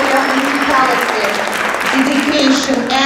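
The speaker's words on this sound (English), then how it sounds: "Let's give her a round of applause" An audience claps for a woman conductor at a concert given by a music club with sixteen grand pianos, a steady, dense round of applause that holds through the whole stretch with a faint voice and tonal sounds beneath.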